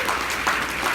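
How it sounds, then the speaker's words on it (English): An audience applauds at an evening panel event, a dense, steady clatter of many hands clapping at moderate distance throughout. "We can give them a round of applause."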